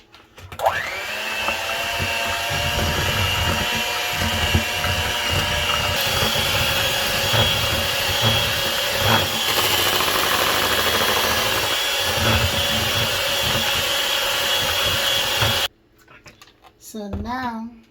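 An electric mixer beats keto chocolate cake batter made with ghee, sweetener and vanilla, giving a continuous loud motor whine with a buzzy, rattling edge for about fifteen seconds before it cuts off abruptly.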